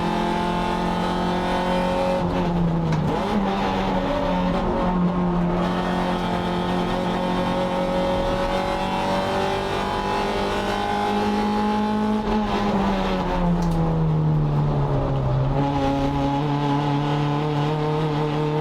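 A race car engine on a circuit lap during a Circuit Excel round, droning loud and close for the whole stretch, its pitch climbing through the gears and dipping under braking into corners, with no talking.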